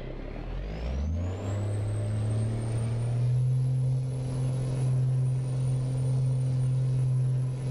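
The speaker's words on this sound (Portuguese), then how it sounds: "Falei que ia chorar pra subir o morrinho aqui." A heavy CNG-chassis truck in a Paraná-mapped truck driving game labors up a small hill, its engine dropping into a low, steady droning rumble after a gear change, with a faint rising whine above, loud and constant.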